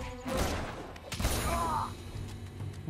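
Bursts of automatic rifle fire in the video game Uncharted 2, a few sharp close shots crackling over a busy background of game noise and faint voice-like sounds.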